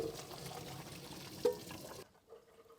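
Cooked farfalle pasta water being drained in a home kitchen, a steady rush of pouring water for about two seconds with a brief clatter midway, then cutting off to quiet.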